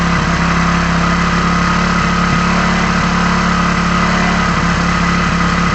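A Hero HF Deluxe motorcycle engine idling while its air screw is adjusted, a loud, steady, close-up thrum with an even low pulse and no change in pace, with no talk.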